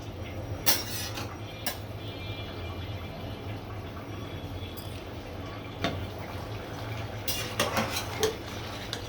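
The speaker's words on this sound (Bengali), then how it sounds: "মাংসটা আবারও নেড়ে চেড়ে দিচ্ছি।" A spoon clinks and scrapes against a pot while meat for biryani is stirred, a few scattered metallic knocks and chinks over a low steady simmering hiss.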